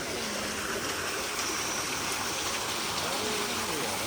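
Constant rushing water from a waterfall at night in England, a broad steady roar with faint voices murmuring beneath it.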